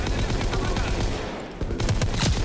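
Rapid gunfire from a weapon in Call of Duty WW2 on a trench map, loud, close and dense, with shots cracking in quick succession and a brief lull near the middle.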